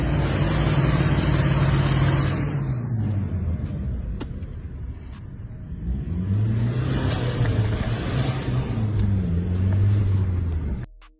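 A car engine with a 1.9 displacement idles and revs hard, surging up, dropping back to a low rumble, then climbing again in a second strong rev before cutting off abruptly.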